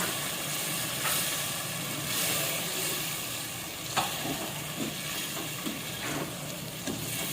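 Green peas go into a pot of fried spice masala and oil, producing a steady, close sizzle and hiss with a few light clicks of stirring and no talk.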